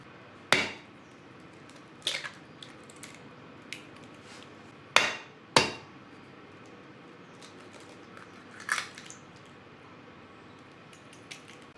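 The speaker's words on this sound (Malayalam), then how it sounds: "രണ്ട് കോഴിമുട്ട എടുത്തിട്ടുണ്ട് അത് ഇതിലേക്ക് പൊട്ടിച്ചൊഴിക്കാം" Two hen's eggs cracked on a bowl rim in a home kitchen, several sharp isolated taps and cracks spread out with quiet gaps between them, close and crisp against a faint background.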